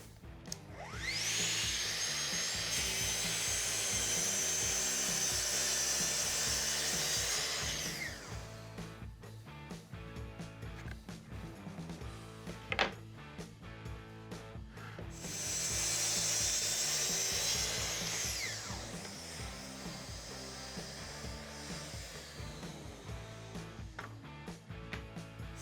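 A saw runs through boards on a mudroom cabinet build, making repeated cuts. Two long, loud, steady whining cuts are separated by a stretch of quieter mechanical rattling and clicks, heard close up with no talking.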